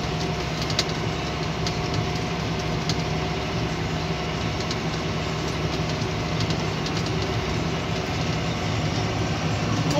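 A John Deere 6920 tractor ploughing a field gives off a steady, unbroken engine drone with a mechanical rumble at moderate distance, with no talking.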